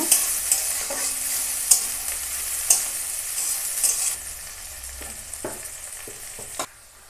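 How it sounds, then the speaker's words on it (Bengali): Sliced onions frying in a pan for a thin chicken curry, a continuous sizzle broken by repeated scraping stirs and clinks of a spatulum, close and without any talk, ending in a sudden drop. "পেঁয়াজটা লাল লাল করে ভেজে নেব"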